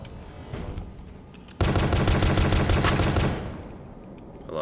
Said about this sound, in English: It's called an M4 bolt gun.